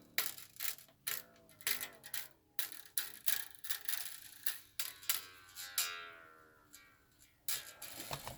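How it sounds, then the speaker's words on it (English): Tuning pegs on a bass guitar turned to slacken the strings, giving a close series of regular ratcheting clicks, each followed by a short falling string tone, about a dozen in a row, fairly faint. "you got to loosen them a lot because you got to take them all the way off the tuning peg"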